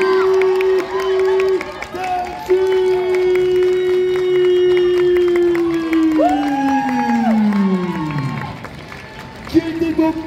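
An audience at a cosplay contest selection applauds and cheers a contestant, a steady wash of crowd clapping with shouts throughout, mixed with loud amplified music and a voice over the top.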